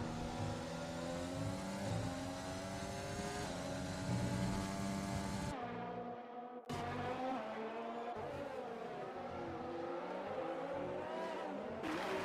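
A Williams Formula 1 car's engine racing at the Spanish Grand Prix in F1 2020, a steady high-pitched whine with rising and falling gear changes, briefly cutting out once before resuming, other cars audible around it.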